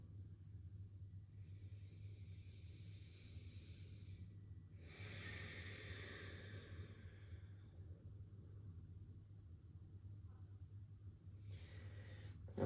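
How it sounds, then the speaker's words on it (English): Slow breathing during a yoga lizard lunge, a long soft exhale-like breath in the middle and another near the end, faint over a steady low room rumble, with no talking. "Couple breaths."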